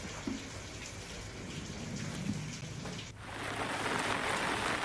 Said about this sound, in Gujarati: જિલ્લાના ઘણા ભાગોમાં ધીમી ધારે વરસાદ થયો